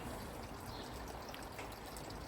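Rainwater dribbles and trickles out of an outdoor fish tank in the rain, a steady close wash of pouring and splashing water with no pauses.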